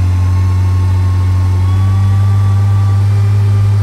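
A freshly rebuilt Ford 300 inline six runs on its first start, a loud, steady, close idle with a deep low hum and no voices.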